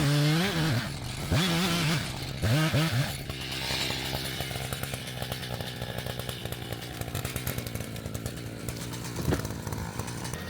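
A chainsaw felling trees in a woodlot, running steadily up close with revving pitch swings early on, then a sustained buzzing drone with rhythmic chatter, loud and continuous without talk.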